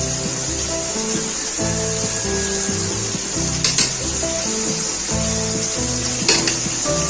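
Minced keema frying in a pan as garlic powder goes in, a loud continuous sizzle close up with occasional spoon scrapes and rubbing, with steady tonal hum beneath and no one speaking.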